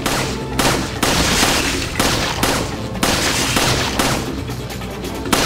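Video game shooter gunfire rattles out in loud, rapid bursts, several volleys separated by brief gaps, dense and punchy throughout with no talking over it.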